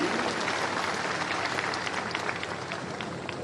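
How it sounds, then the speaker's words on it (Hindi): An audience claps at a ceremony unveiling a statue of Lord Parshuram at a cave temple, producing a dense, steady wash of applause that slowly fades. "तालियां बजा के उनका अभिनंदन कीजिए।"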